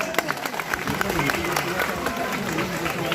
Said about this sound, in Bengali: সকলে তার জন্য একটি